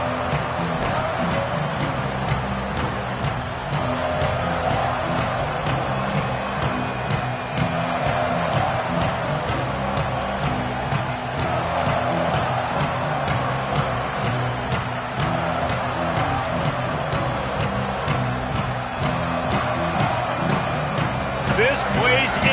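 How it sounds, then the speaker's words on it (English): A packed football stadium roars through a night game against Michigan, the crowd noise a dense, steady wall of cheering that never lets up, with a commentator talking over it. "This place is roaring, and it's going to be so hard to operate under these conditions."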